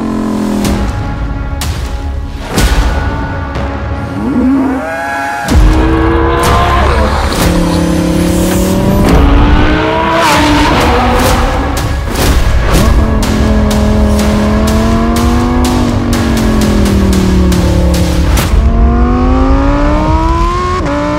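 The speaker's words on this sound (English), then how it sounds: "whether the exhaust system that we fitted makes this STO sound better than an 812 Superfast" A Lamborghini Huracan STO fitted with a Novitec exhaust system revs and accelerates hard, loud and close, with repeated sharp throttle blips and rising engine tones through gear changes, no voices.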